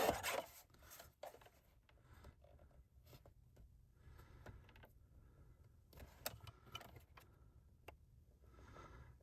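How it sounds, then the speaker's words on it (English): A paper trimmer cuts card mat to size with quiet scraping and sliding strokes, soft clicks and brief rasps scattered across a faint, quiet background. "I'll pull in my trimmer and I'll just trim that to size"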